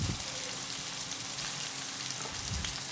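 Oil heating in a kadai gives a steady, faint crackling sizzle, close up and continuous with no talking.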